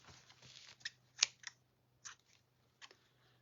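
Scissors cut loops of craft material at close range, a handful of quick crisp snips spaced irregularly over a faint steady hum.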